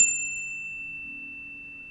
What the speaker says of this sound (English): I'm going to ring my bell to cleanse and clear the energy